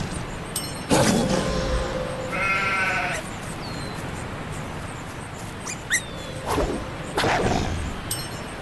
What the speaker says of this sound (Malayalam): ചെമ്മരിയാട്.